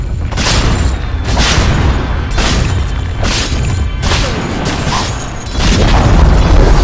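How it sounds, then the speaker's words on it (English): In a Dota 2 match, the Dire bottom tower is attacked and destroyed, giving loud, repeated heavy booms and crashing impacts at a steady rhythm under a dense, rumbling game mix. "Dire's bottom tower has fallen."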